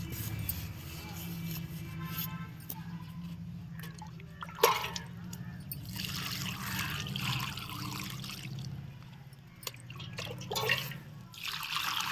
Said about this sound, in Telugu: ఫస్ట్ టైం కొంచెం ఎక్కువగానే వాటర్ పోసుకోవాలి.